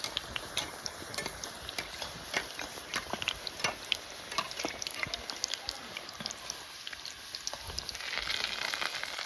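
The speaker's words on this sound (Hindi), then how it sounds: "दूसरे साइड भी इनको हम अच्छे से फ्राई कर लेंगे गोल्डन ब्राउन होने तक" Kashmiri snacks deep frying in hot oil until golden brown give off a steady, fairly quiet sizzle dotted with tiny pops and crackles that swells a little louder near the end.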